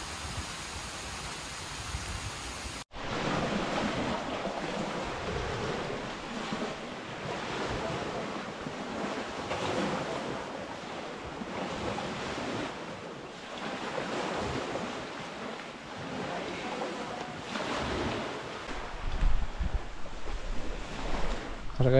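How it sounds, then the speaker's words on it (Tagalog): Continuous roar of surf and wind at a beach in San Narciso, Quezon, broad and steady, with waves swelling and washing in, buffeted by wind on the microphone. "Parang dahon. Alon."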